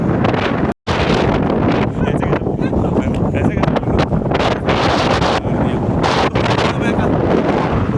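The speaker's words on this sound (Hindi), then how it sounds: "हवा ज़बरदस्त है और बहुत तेज़ है।" Strong wind blasting across a hilltop during a sunrise hike near Somalpur, Ajmer, Rajasthan, loud constant roaring buffets on the microphone with a voice partly buried beneath.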